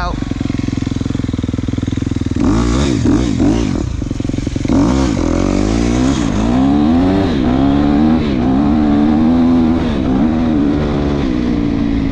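A Husqvarna enduro motorcycle revs loudly and close, its engine climbing and falling in repeated throttle bursts over a steady rumble, with people talking throughout.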